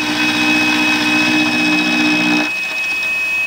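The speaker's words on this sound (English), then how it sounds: "So just setting this back up in the mill, I can come back along and do one final pass" A milling machine takes a final finishing pass across a lower foot on a metal lathe tool, a steady loud motor whine with a cutting hum that drops away sharply near the end.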